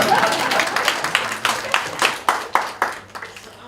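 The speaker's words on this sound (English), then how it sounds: "Another clap for walking miracle." Audience applause for a speaker at a metabolomics workshop closing ceremony, a run of distinct claps rising and falling in a steady rhythm, moderately near and fairly loud, with no talking.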